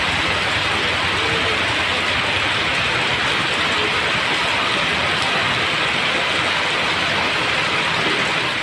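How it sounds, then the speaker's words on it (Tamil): Heavy rain pours over Coimbatore city streets, a dense, loud, unbroken hiss of downpour with no gaps and no voices. "கோவை நகர் மற்றும் புறநகர் பகுதிகளில் கனமழை பெய்தது."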